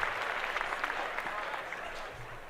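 A steady round of applause and clapping fills the whole stretch, dense and even, with a few low voices murmuring underneath.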